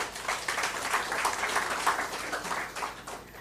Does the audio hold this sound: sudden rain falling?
no